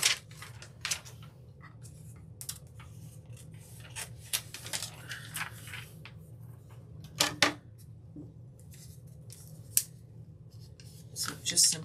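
Scissors snip repeatedly while trimming material on a wooden stocking craft, a series of sharp close cuts spread irregularly over steady low background hum, with no voices.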